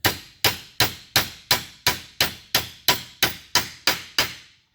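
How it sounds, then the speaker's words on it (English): Brass hammer tapping a steering pinion into its bushing on a Teryx 800 steering rack, twelve evenly spaced sharp metallic strikes with short ringing decays, close and steady with no talk. "My brass hammer, again, I've been doing this for years, never had a problem with this going back in, but a couple taps"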